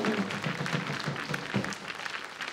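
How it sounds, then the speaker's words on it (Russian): Studio audience applause during a televised Russian lotto game show, a dense, moderately distant wash of clapping that fills the whole moment without speech. "Аплодисменты звучат в студии"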